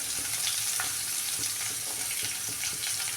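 Onions and curry leaves sizzle in oil in a pan for a potato stir-fry, a dense, close crackling hiss with a few soft stirring knocks and no talking.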